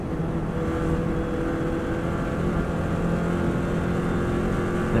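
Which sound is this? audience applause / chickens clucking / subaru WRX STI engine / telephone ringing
subaru WRX STI engine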